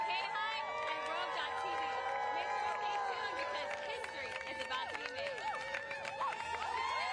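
A big crowd at the Eddie Aikau big-wave surf contest at Waimea Bay keeps up a dense, distant din of overlapping shouts, whoops and cheers for several seconds.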